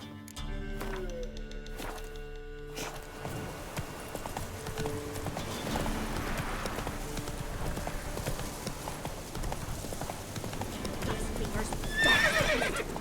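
In The Witcher 3, the horse Roach trots with rhythmic clip-clop hoofbeats and lets out a whinny, under background game ambience and spoken dialogue.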